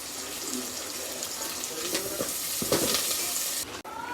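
Sliced onions and curry leaves fry in a pan with a dense, continuous sizzle, close and fairly loud, with occasional stirring scrapes near the end.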